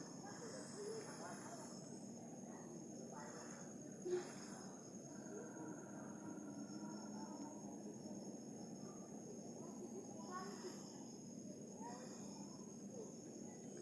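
Tiny frogs call from a shallow patch of water with a faint, steady, high chirping trill that runs throughout, while a voice speaks softly over it.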